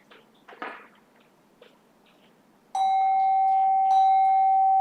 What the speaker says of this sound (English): Going to ring the bell now.